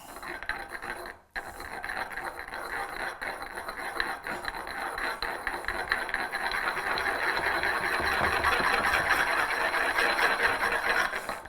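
A blender mixing raw egg yolks for aioli gives a steady, continuous whirring drone that builds slightly over time, fairly quiet, with no talk.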